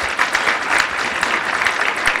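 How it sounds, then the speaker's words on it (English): An audience gives a brief round of applause at a startup-week event, dense close clapping throughout a short burst. "Let's give them a round of applause for coming to see us."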